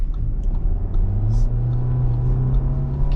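A 2022 Audi Q7 Quattro Premium Plus 45 TFSI pulls away on the road, its engine a steady low hum rising gently under constant tyre rumble, heard from inside the cabin with no one speaking.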